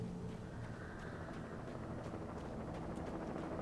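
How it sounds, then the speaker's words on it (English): Helicopter in the video game Alan Wake, a steady low rotor drone holding throughout at moderate level, with faint scattered clicks above it and no talk. "Now they're bringing out fucking helos."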